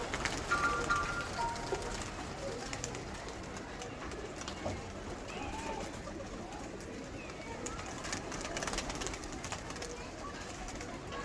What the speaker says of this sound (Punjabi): ਆਹ ਜਿਹੜਾ ਕਬੂਤਰ ਹਾਈ ਸਾਹਿਬ, ਇਹਨੂੰ ਲੋਕ ਕਹਿੰਦੇ ਪੱਟੀ ਵਾਲਾ ਕਬੂਤਰ